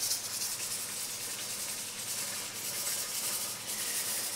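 Onion sizzling in a frying pan with oil, a steady, even hiss and crackle close by, continuous and unbroken with no talking.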